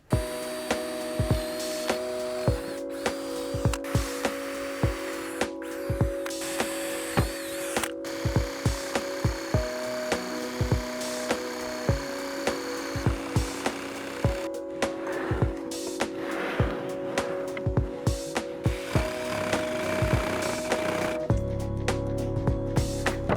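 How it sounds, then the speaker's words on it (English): A drill and jigsaw cut through a wooden countertop board to make a sink hole, a steady whir with a continuous droning tone and rapid rattling chatter throughout, close and fairly loud. "I'm gonna drill holes, and with the jigsaw I'm gonna cut all the way around"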